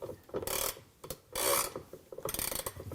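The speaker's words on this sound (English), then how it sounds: "So now that you have your socket with your extensions and your ratchet, just drop it right down in onto the bolt itself" Ratchet with a socket on extensions loosening the agitator bolt of a Whirlpool washer, rasping in several close bursts of rapid clicking with short pauses between strokes.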